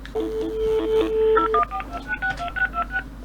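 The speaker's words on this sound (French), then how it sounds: "je vais tout de suite l'appeler" A telephone number being dialed on a touch-tone keypad: a quick series of distinct beeping tones in an irregular rhythm, close and clear, with no talking.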